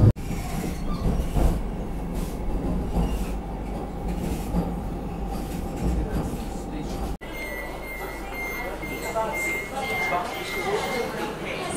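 Inside a Vande Bharat Express train on the Madurai to Bengaluru run, a steady loud rumble of wheels and cabin noise drones throughout, shifting slightly partway, with faint background voices.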